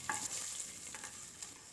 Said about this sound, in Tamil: இப்போ பெரிய வெங்காயம் நல்லா வதங்கிருச்சு